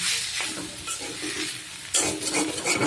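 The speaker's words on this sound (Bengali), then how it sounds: "আর এই তো ভাজি করতেছি, কচু ভাজি।" Taro slices (kochu bhaji) fry in a pan with a steady close sizzle, broken by stirring scrapes and a louder burst of spattering partway through.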